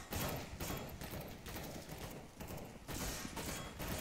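Sustained gunfire in Counter-Strike: Global Offensive on the Mirage map, dense overlapping bursts of shots rolling continuously at steady loudness for several seconds, with no talk over it.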